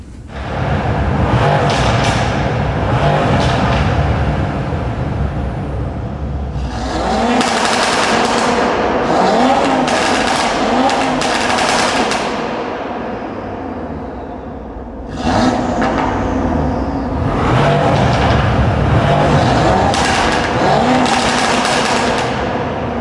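A stage 2 Audi RS3 saloon accelerates hard through repeated pulls, its engine roaring loud and close with crackling, gunfire-like pops from the exhaust, surging in waves that briefly dip between runs.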